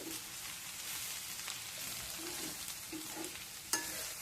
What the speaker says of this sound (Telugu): వేసి ఒక టూ మినిట్స్ బాగా తిప్పాలి